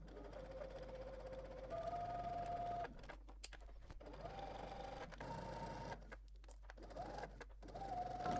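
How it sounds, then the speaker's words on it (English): A sewing machine whirs in steady bursts, stitching a 5/8-inch seam with short pauses between runs, close and fairly quiet. "we can go ahead to the sewing machine and stitch this using 5/8 of an inch seam allowance"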